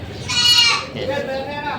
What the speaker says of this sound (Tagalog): Ayan, ito yung mga kambing.